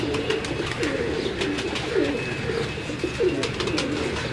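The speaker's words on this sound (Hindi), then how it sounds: "ये उड़े हुए कबूतर हैं" Pet pigeons coo on a home rooftop, their low, throaty calls repeating in soft rolling phrases close by over a steady background hum.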